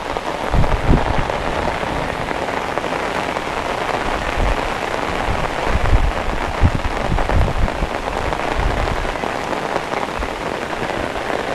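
Heavy summer rain in Kerala pours steadily and loudly, a thick close roar of drops with occasional heavier bursts, no talking.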